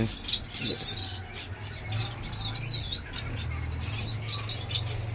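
Chirps from a pair of blue-faced parrot finches in an aviary, high bright twittering notes coming in short bursts over a steady low hum.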